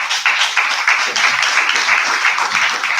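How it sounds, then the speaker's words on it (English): Audience at an entertainment showcase breaks into dense, sustained applause, many hands clapping loudly and evenly for the full few seconds. "Please give up a round of applause for him."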